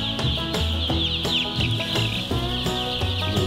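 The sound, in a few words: chicks in a chick brooder on a farm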